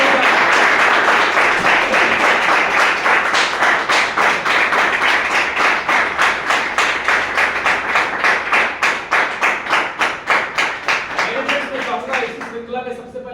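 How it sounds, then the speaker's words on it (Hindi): Audience at a Ravidas Jayanti business plan event claps loudly and steadily, dense applause throughout that thins into a more distinct rhythmic beat near the end. "जोरदार तालियां जोरदार होनी चाहिए, जोरदार तालियां।"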